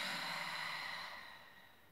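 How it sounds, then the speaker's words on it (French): A person blows one long breath out through the mouth during an abdominal breathing exercise, a close breathy exhale that slowly fades away. "je vais souffler par ma bouche"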